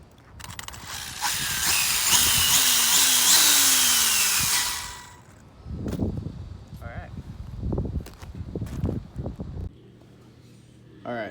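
An Exceed RC Hyperspeed 4WD car, converted from nitro with a 775 drill motor, whines loudly and harshly for about five seconds, then cuts off as a person talks over faint background noise.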